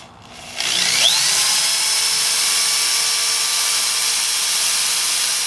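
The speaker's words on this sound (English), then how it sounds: "we need to drill a hole through the dash pad for this screw to fit in" A power drill bores through the dash pad of a 1973–87 Chevrolet C10, starting with a short rising whine that settles into a steady, close, high-pitched drilling hum lasting several seconds.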